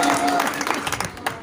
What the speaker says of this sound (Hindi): तालियां तालियां